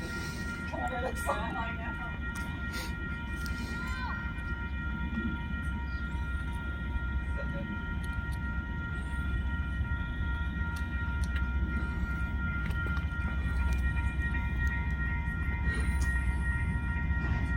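CSX freight train LA3 approaching Ballardvale station in Massachusetts, heading toward Lawrence: a steady, continuous rail rumble holds throughout at moderate distance, with faint high tonal lines riding above it.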